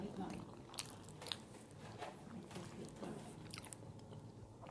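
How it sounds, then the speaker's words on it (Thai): Korean instant noodles being eaten up close, with soft biting, chewing and slurping crunches spread through the clip over a steady low background. "มากินมาม่า"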